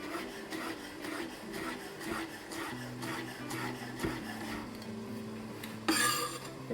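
A knife rough-chopping fresh parsley on a wooden board, a steady run of soft rhythmic taps and scrapes, with a louder clatter near the end.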